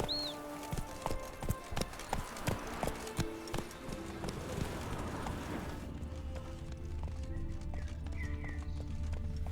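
Roach, the horse in The Witcher 3, clip-clops at an even pace for several seconds with a brief whinny at the start, then the hooves give way to softer ambient game sounds.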